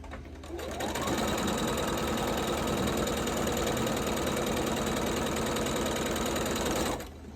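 A sewing machine stitches a Shoofly Star quilt by Lori Holt, starting up after a brief pause and running in one long, steady, loud burst of rapid rhythmic clatter before stopping near the end.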